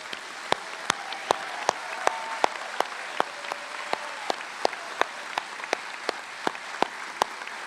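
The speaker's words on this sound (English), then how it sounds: "Congratulations to all the graduates. Let's give them a big round of applause." Applause for medical sciences graduates at a commencement ceremony, a steady spread of claps with several sharp, close individual hand claps ringing out over a thinner, distant crowd.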